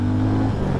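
A Harley-Davidson X440 or Hero Mavrick 440 motorcycle engine drones loudly and close, holding a steady pitch as the rider pulls away through the gears, with a brief dip and recovery near the end.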